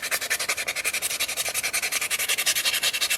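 Sandpaper rubbed by hand over a soapstone wolf carving near the tail, a quick steady back-and-forth scrubbing rhythm of many short strokes, close and fairly loud, with no talk.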